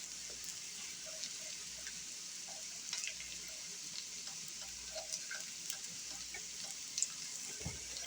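Food slowly cooking over medium heat in a cast iron pan, giving a soft, steady frying sizzle with faint crackles and small pops, quiet and continuous with no talking.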